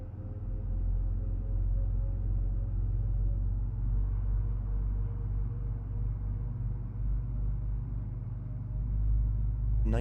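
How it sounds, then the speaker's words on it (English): A Fenix Airbus A320 in Microsoft Flight Simulator at Stockholm hums with a deep, steady engine drone and low rumble that holds evenly throughout, with no talking. "Listen to the engine sounds."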